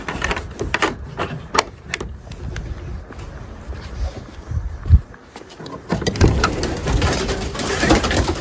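Soft racing pigeon coos come and go among scattered clicks, rustles and shuffling, with a busier, louder patch of activity toward the end.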